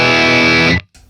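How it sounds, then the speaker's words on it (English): Electric guitar played through the distortion side of a Rodenberg pedal on a Hotone Ampero Stage II rig, a single heavily saturated chord held loud, then cut off, followed by a faint short noise. "I can use the distortion side."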